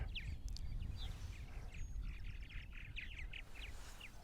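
Purple martins at a nesting colony on eastern Long Island, New York, in May chirp and chatter in scattered bursts over a steady low rumble of wind or traffic, with no talk.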